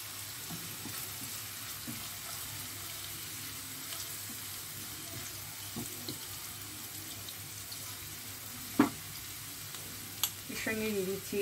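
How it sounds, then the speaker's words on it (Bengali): Onions fry in a pan for chicken jalfrezi, a soft, low steady sizzle with a few sharp clinks and scrapes near the end, fairly quiet and close, with no one speaking. "একটু পেঁয়াজটা ভেজে নেব।"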